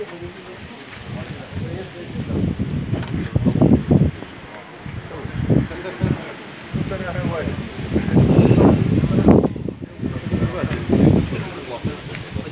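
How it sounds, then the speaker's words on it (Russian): Gusty wind buffets the microphone outdoors during a goby fishing competition, rumbling in surges at close range while people talk over it. "При таком ветре."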